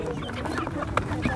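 Chickens and roosters at a poultry market, with short clucks and squawks rising over a busy background, and voices talking nearby.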